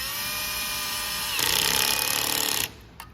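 A power torque driver tightens the last bolt on a blade shaft assembly, a steady whining buzz that rises into a louder rattling burst before cutting off, followed by a small click.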